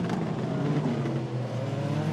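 Peugeot and Porsche endurance race cars battle at Fuji in the WEC, engines roaring loud and close with a sustained high whine and shifting pitch, blurred together under continuous track noise.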